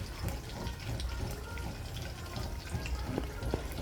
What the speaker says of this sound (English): I already put my fish, it's frying.